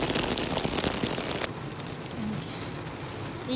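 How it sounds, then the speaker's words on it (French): Heavy pelting hail drums steadily on surfaces, loud at first and easing a little midway, with no voices. "Il grêle."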